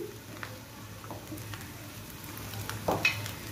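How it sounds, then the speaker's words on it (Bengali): Chopped green chillies go into a frying pan of oil for lau shak bhaji, giving a low steady sizzle with light stirring scrapes and a brief louder crackle near the end, close and without talk. "আর এখানে আমি চার পাঁচটা কাঁচা মরিচ কুচি করে রাখছিলাম আগে আমি ওগুলো দিয়ে দিচ্ছি"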